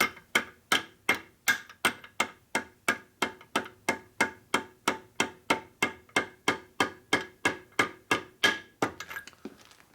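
A steel or plastic hammer lightly taps a 13/16 socket onto the crank of a 1961 Harley-Davidson Sportster XLCH during an engine rebuild, giving about twenty-five evenly spaced sharp metallic taps, close and clear, with no talk.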